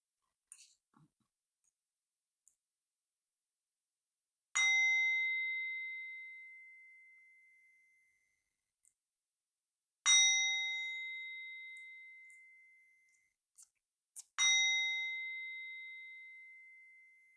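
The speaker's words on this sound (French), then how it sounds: "On va aller faire les 3 coups de bol tibétais." Tibetan singing bowl struck three times in a quiet room, each strike a clear bright ring that hangs and slowly fades, evenly spaced with near silence between them.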